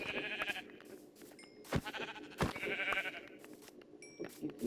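Sheep in a survival video game bleat several times, with a few short, wavering cries standing clearly over quiet background noise. Sharp clicks and thumps punctuate the bleats.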